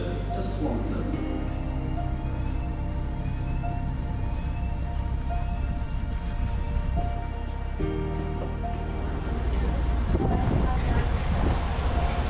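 A train stands at a station platform, its steady low rumble and engine drone continuing throughout, with rattling and clatter layered above and a faint hiss, while a public address announcement plays over it.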